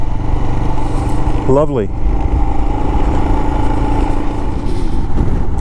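A Royal Enfield Himalayan motorcycle engine drones steadily and loudly while riding trails at Lake Anita State Park in Iowa, a constant low thrum with a brief rising whine; a rider speaks briefly over it.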